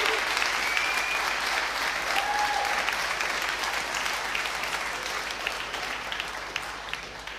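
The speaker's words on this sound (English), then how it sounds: "I think we should give you a round of applause to the people here who have been filming the conference" Steady applause from a conference audience fills the room, a dense, even wash of many hands clapping at once that holds for several seconds and tapers slightly toward the end.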